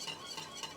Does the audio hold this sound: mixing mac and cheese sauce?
yes